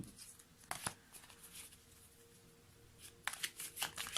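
Oracle cards are shuffled and drawn near a quiet microphone, soft riffling bursts at the start and end with faint paper rustle between.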